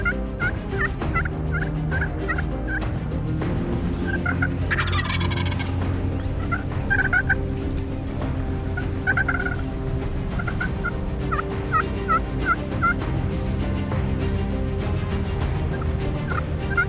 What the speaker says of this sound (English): A big gobbler heading right for us.